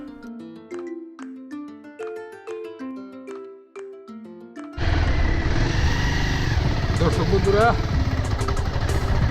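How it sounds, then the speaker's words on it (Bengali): A motorcycle ridden outdoors near the Taiyabpur sluice gate by a river, its engine a steady loud broadband drone with wind buffeting, taking over abruptly midway after a stretch of music; a voice speaks briefly. "আমরা এখন মোটর সাইকেলের মধ্যে আছি"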